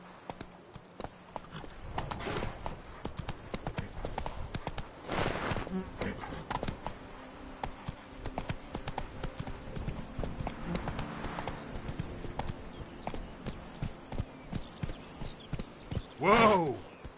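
A horse gallops in a video game, its hooves clip-clopping in a steady rhythm while a voice talks over it and a neigh rises near the end.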